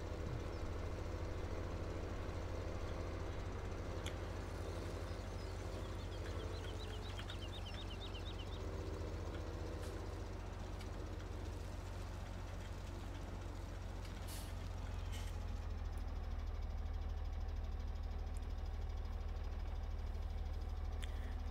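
Tractor engines idle in the Farming Simulator 17 video game, a steady low rumbling drone that runs throughout at moderate level, with faint higher chirps and a few brief hissing bursts on top.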